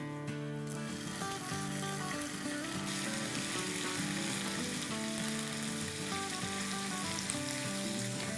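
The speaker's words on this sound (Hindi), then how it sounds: "ये हमारा जिंजर, गार्लिक, अदरक, लहसुन और हरी मिर्चों का पेस्ट को सौटे हुए में 2 मिनट हो गए हैं" Ginger, garlic and green chili paste sautés in hot oil with curry leaves for an eggplant and potato curry, giving a steady, close, dense sizzle and crackle that holds evenly throughout with no talking.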